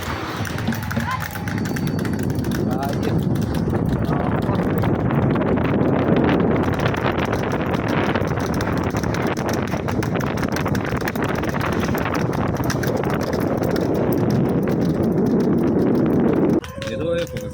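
Racing bulls pull a cart at speed in a Tamil Nadu bullock cart race, their hooves pounding in a steady rapid gallop beneath loud, constant wind rush, with people talking over it.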